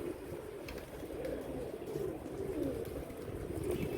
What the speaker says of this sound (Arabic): الصبح كله مليان حمام